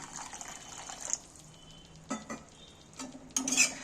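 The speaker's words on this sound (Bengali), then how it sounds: "এবার মাংসটা সেদ্ধ হওয়ার জন্য সামান্য একটু জল আমি এতে দেবো" Water splashes into a pan of frying chicken biryani masala, bursting into sizzling hiss in separate quiet spurts amid soft stirring and scraping, with no voices.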